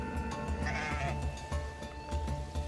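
Sheep in a flock bleat, with one clear wavering bleat standing out among several others. They sound fairly close over a steady background hum.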